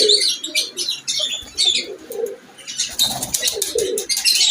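Cheena pigeons on a Lahore rooftop flap their wings in quick bursts and give soft chirps and coos, close and clear, with the fluttering coming in short repeated bouts.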